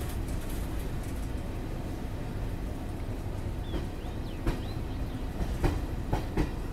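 The Garib Rath express rolls along the line out of Panvel with a steady rumble and rattle of carriages. Sharp clicks of the wheels over rail joints come more often toward the end.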